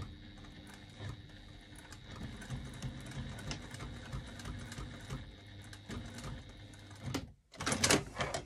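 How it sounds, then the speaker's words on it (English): Sewing machine stitching a bag gusset, a steady quiet mechanical whir running for about seven seconds, then a brief pause and a short louder burst at the end. "Just got the 1st line of stitching"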